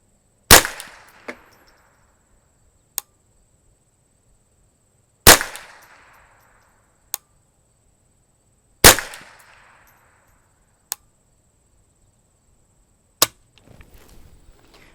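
A Ruger 10/22 rifle fires at a target outdoors: four sharp, loud reports spaced a few seconds apart, each trailing a short decay, with fainter metallic clicks between shots.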